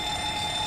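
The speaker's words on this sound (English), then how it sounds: "There's the fire alarm." A fire alarm sounds in the cockpit of a Boeing 737-900, a steady, shrill electronic tone held without a break, clear and prominent with no talking over it.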